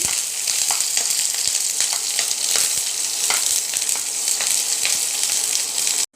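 Pork sizzles steadily in a hot pan with elephant apple and Lasia spinosa, a dense frying hiss broken by occasional scrapes of a stirring spoon, continuous and close before cutting off abruptly at the end.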